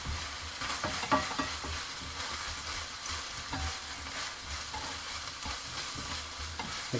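Fried potatoes with bacon, sausage, loin and ham being mixed with herbs in a pan for Austrian Gröstl, a continuous sizzle under steady scraping stirs, close and even.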